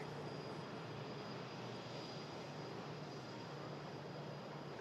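A distant aircraft at Manchester Airport produces a faint, steady engine rumble and roar that holds evenly with no breaks and no voices.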